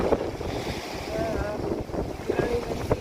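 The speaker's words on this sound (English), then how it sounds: "A little windy here, but it's fairly well protected." Steady wind gusting across a protected seaside campsite on the rocky Cap de Creus coast, a soft continuous rush with faint surf beneath and brief thin whistles.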